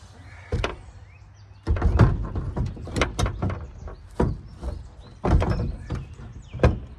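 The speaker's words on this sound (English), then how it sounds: "Now we get to set the other door on there." A door is set onto a Scamp camper trailer with a series of close thuds, knocks and scraping bumps in irregular rhythm, while someone talks quietly.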